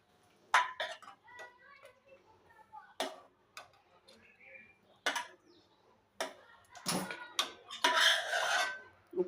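Kathiyawadi stuffed chillies are moved from the pan into a serving bowl with sharp metallic clinks and scrapes of a spoon against cookware, coming in scattered, close, irregular taps and a brief clatter near the end.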